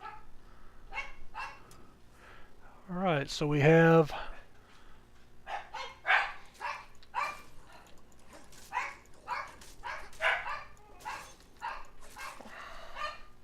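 Several dogs bark at a house with repeated, fairly close, insistent yaps, led by one loud bark-and-whine burst, while someone talks over them.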